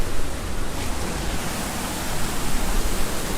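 An outdoor waterfall roars steadily with breezy wind, a dense, continuous broadband wash that stays close and loud throughout with no pauses.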